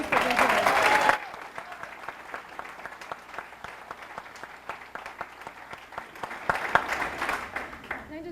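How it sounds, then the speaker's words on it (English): A San Diego audience applauds at a book launch for an author, opening with a loud burst under a voice, then settling into steady clapping from many hands that swells again near the end. "the applause is so nice"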